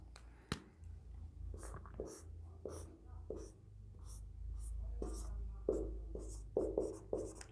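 Chalk writing a chemistry reaction on a board, a series of short scratchy strokes and taps at an irregular pace, close and fairly soft, with faint room tone between marks.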